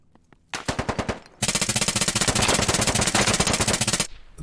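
Automatic gunfire in the military shooter game Squad: a short, spaced burst, then a long continuous loud rattle of rapid shots lasting several seconds before stopping abruptly, with no talk.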